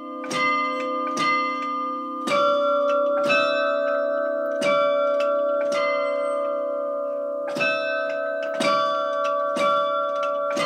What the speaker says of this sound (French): L'horloge sonne toutes les heures et les demie.